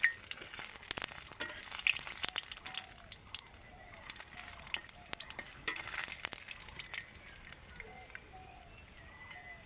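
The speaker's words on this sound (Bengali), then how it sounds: "কিছুক্ষণ নেড়ে নিব যেন একটা ফ্লেভার আছে।" Pork curry fries in a pan over the heat, a continuous bright sizzle with occasional stirring scrapes and small pops, close and steady, with faint outdoor bird calls behind it and no talking.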